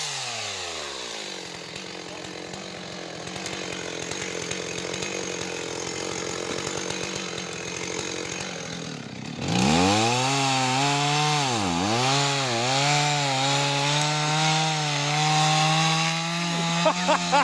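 A chainsaw cuts wood outdoors while an elk watches nearby, a steady rasping drone that shifts pitch and revs up loudly partway through as the cut changes, close and continuous.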